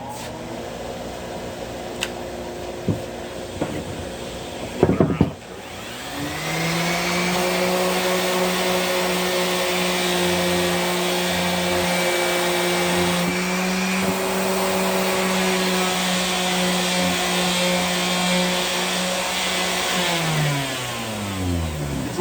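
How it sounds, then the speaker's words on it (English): Shop fans running in a woodworking shop while walnut is sanded, a loud steady whir that spins up after a few taps and clicks, holds evenly, then winds down at the end. "I'm also going to be running my other fans as well, so you're going to hear some stuff."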